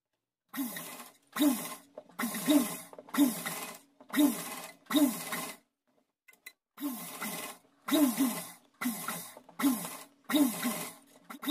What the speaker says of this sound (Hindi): तो पहले सिलाई लगा लेते हैं